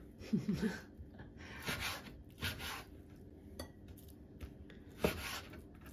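A knife chops meat on a board in a home kitchen, giving a few scattered knocks and scraping rubs with faint clinks of utensils and a quiet room between strokes.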